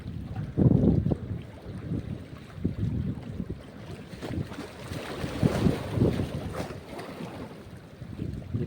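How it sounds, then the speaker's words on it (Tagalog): Strong wind buffets the microphone in loud, gusty rumbles, with a boat's low engine drone and water sounds underneath, while fishing. "dito lang sa baba malakas ang hangin"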